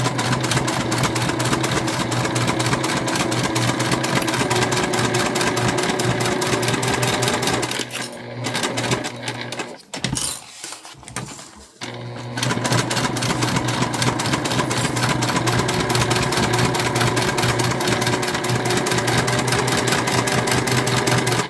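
Juki TL2 sewing machine basting fabric pieces for a drawstring backpack, running in a steady fast mechanical rattle that stops briefly midway with a few soft handling sounds, then resumes at the same pace, loud and close.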